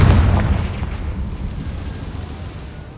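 A Confringo blasting spell exploding in Hogwarts Legacy, a loud deep boom with a rumbling tail that slowly fades over a few seconds.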